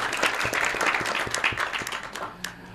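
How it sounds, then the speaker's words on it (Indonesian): Dense applause from an audience at an Islamic boarding school dormitory culture night, honouring alumni performers, with steady overlapping claps that thin out toward the end. "Tepuk tangan untuk alumni Mujtahidin."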